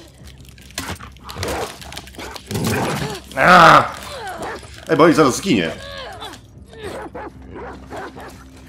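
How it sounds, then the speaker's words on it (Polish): A dog barking, yipping and whimpering in the video game The Last of Us Part II during a fight, short strained cries in bursts, with someone talking excitedly over the game sounds. "Dobra, atak na psa."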